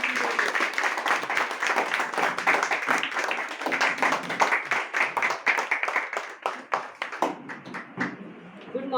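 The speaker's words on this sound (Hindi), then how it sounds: "जोरदार तालियां" Sustained applause at an indoor meeting, dense and steady, with a rise of sharper individual claps and a short tail toward the end.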